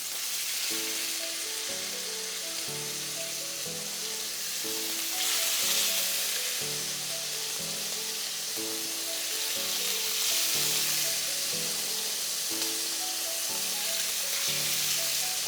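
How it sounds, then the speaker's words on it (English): Pork chops searing in a very hot pan, a loud, steady, close sizzle and crackle of frying fat that runs the whole time with no talk, while a musical backing plays beneath it. "you want the pork to get seared, and it's going to have a hard crust"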